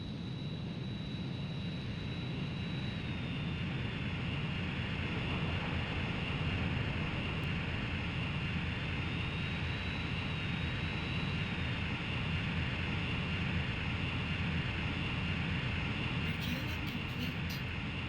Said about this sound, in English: 空中給与を受け帰還せよ。 給油機の接続準備が整いました。